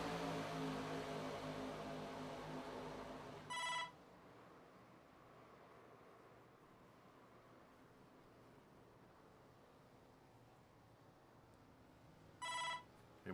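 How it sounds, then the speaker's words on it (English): A phone rings in two short bursts, a few seconds into the quiet and again near the end, each a bright repeated trill over a low background hum. "And why my phone's going off all of a sudden"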